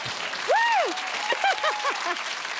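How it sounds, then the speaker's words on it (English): A studio audience claps on a British comedy news panel show, a steady patter of applause running throughout while a voice speaks over it in rising, sing-song phrases. "It's amazing what you get a round of applause for."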